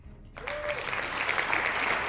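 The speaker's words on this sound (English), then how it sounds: "And then you'll hear the cheer." A crowd-cheering sound effect plays on a name wheel during a live World Series 2019 bracket drawing, with a sudden burst of applause and whoops that swells and stays dense and steady.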